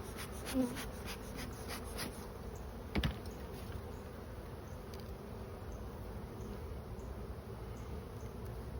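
Honey bees buzz continuously around an open hive during a March colony inspection, a steady close drone with a couple of brief louder bumps and no talk.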